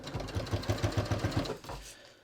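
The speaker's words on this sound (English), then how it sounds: "I'm just going to stitch the Velcro on at that 1/2 inch." A sewing machine stitches Velcro onto a non-stretch pants waistband in a short, quick run of evenly pulsing stitches that stops abruptly.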